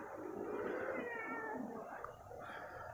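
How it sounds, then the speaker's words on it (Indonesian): A cat at a campsite in Bogor gives a drawn-out, wavering meow close by, moderately faint against quiet background noise, with one brief call across the whole stretch. "Ada kucing, Par."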